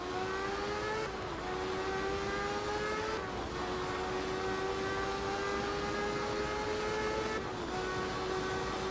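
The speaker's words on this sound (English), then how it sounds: "settling on the Mazda RX-3. With its 2-rotor engine and 200 horsepower, it sounded drastically different than anything before it" A Mazda RX-3 with a 200-horsepower two-rotor engine in the Art of Rally video game climbs steadily in pitch as it accelerates, and its whine drops sharply at three gear shifts.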